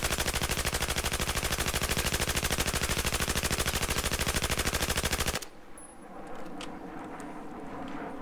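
Rapid automatic gunfire in the video game Battlefield 4, a loud fast unbroken stream of shots for about five seconds that stops abruptly, leaving quiet in-game ambience with faint clicks.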